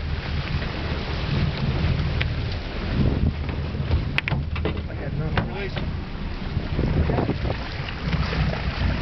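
Fishing boat out on open water during a white marlin catch, its engine and hull rumbling loudly under heavy wind noise, with people talking and calling out over it.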